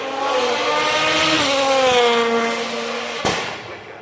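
A race car powers up the hill at the Goodwood Festival of Speed, its engine screaming loud and close with rising pitch through the gears, then a sharp crack from the exhaust near the end as it passes.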